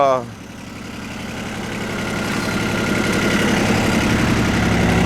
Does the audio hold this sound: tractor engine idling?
yes